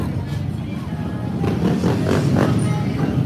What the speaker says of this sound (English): in this neighborhood, there's always motorcycles